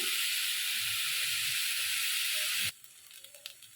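Ginger paste hits a hot pan and sizzles in a loud, steady hiss for most of the moment, then cuts off abruptly, leaving faint clicks and kitchen sounds.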